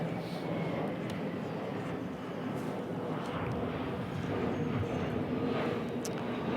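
An airplane passing overhead in Point Loma, San Diego, a steady broadband roar that holds level throughout, moderately loud with faint murmuring of a crowd beneath.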